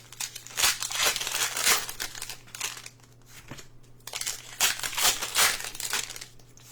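A Pokémon Ascended Heroes card pack wrapper being torn open and handled, close crinkling and rustling foil in bursts with a brief lull in the middle.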